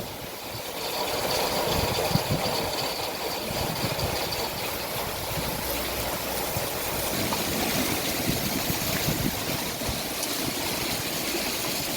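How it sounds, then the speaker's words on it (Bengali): Heavy rainwater pours steadily down and floods a street in Bahrain, a continuous loud broadband rush that holds unbroken for the full length with no pauses. "এই যে দেখেন পানি কীভাবে পড়তে আছে বৃষ্টির পানি"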